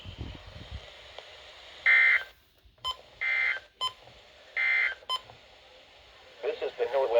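Emergency Alert System header tones on NOAA Weather Radio: three bursts of harsh digital data buzz separated by short gaps, with brief clicks between, followed by the start of a spoken broadcast.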